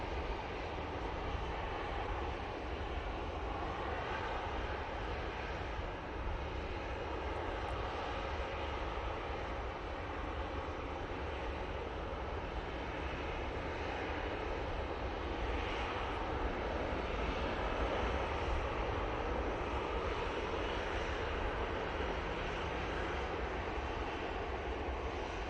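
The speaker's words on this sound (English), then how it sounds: "Easyjet, going off to Funchal now." An easyJet airliner departing Manchester Airport for Funchal produces a continuous, fairly distant jet rumble, steady and unbroken for the whole stretch.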